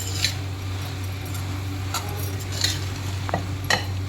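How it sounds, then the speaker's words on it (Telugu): Boiled, fried potatoes being stirred with fresh mint and coriander in a cooking pan, giving a few brief scraping clinks of a spoon against the pan over a steady low hum, with no talking. "పుదీనా, కొత్తిమీర, ఇవన్నీ ఒకసారి కలుపుకోవాలి."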